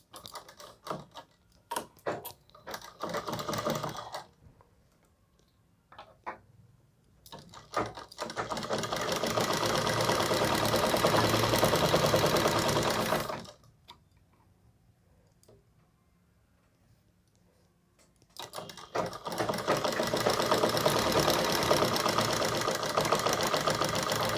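Sewing machine stitching a round collar on a suit, running in two long steady bursts of close, loud mechanical whirring separated by quieter pauses with light handling clicks.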